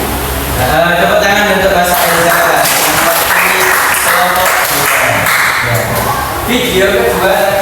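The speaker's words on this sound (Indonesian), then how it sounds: "Tepuk tangan untuk Mas Eza." A classroom full of people claps, dense applause building and fading in waves, with voices talking over it.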